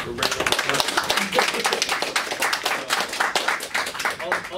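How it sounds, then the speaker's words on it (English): A crowd of supporters at a welcome meeting claps in dense, steady applause that carries through, with a voice briefly heard over it. "let's give Winston a round of applause"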